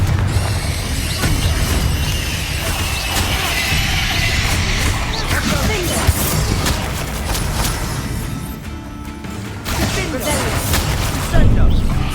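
Repeated blasts of the Confringo fire spell in Hogwarts Legacy, loud booming explosions and crackling bursts layered with combat effects and spell shouts throughout.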